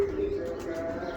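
An old-bloodline Pachaliye pigeon coos in a brief, low, close murmur lasting about a second, with a faint voice in the background.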